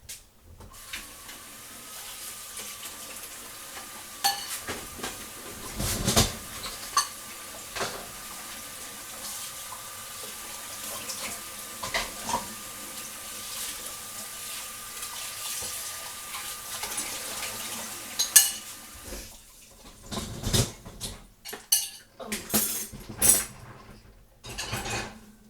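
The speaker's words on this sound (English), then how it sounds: "Let me get my dishes out the way." Dishes being washed at a kitchen sink while preparing home canning, with running tap water and irregular clinks of cutlery and pots, close and busy, without speech.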